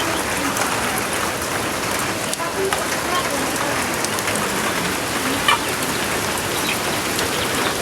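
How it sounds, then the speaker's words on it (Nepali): Steady heavy rain pouring down outdoors, a dense constant hiss of drops on surfaces with a faint chicken cluck somewhere in the background. "पानी पर्न छ अझै रोकेको छैन"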